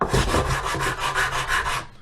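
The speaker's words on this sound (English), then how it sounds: "take a sanding block and just kind of work them down to the wood" Rhythmic rasping of a sanding block scrubbed back and forth over wood, about ten even strokes, close and fairly loud.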